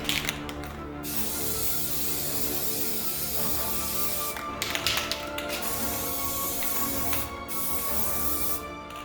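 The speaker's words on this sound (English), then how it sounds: "we're going to spray this sucker" Long continuous hissing bursts from a can of all-in-one paint-and-primer spray paint, several seconds each, separated by short pauses, close and fairly loud.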